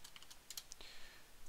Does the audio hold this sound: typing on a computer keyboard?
yes